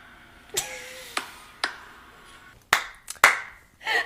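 A handful of sharp, separate hand claps, spaced irregularly and close by, the last few louder and quicker, with no talking.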